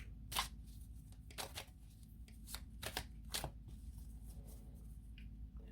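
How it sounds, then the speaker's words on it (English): Tarot cards shuffled and laid out on a table, a handful of soft riffling bursts and slaps spaced apart over a low steady hum, close and fairly quiet, with no talk. "Why don't we go ahead and lay out some cards"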